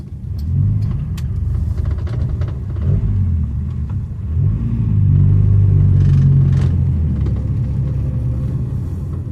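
Car engine idling steadily in a workshop while an exhaust rear pipe is still unfinished, a loud, close low rumble that holds an even tick-over throughout with slight swells in volume.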